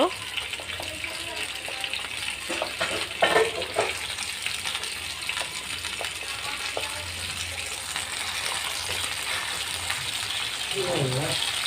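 Fish, fried into rohu fish roe fritters, sizzles in hot oil in a steady close hiss with scattered crackles, under intermittent talking for most of the stretch.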